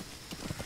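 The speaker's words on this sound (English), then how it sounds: "You can totally stealth on a horse." Horse hooves clopping in the video game Metal Gear Solid 5, a quick few muffled steps in under a second over a steady game soundscape.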